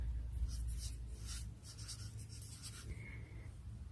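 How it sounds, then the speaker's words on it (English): A pen writing a name on a piece of paper: a steady, soft scratching of quick strokes that continues throughout, quiet and close, over a low background hum. "take a piece of paper, write your name"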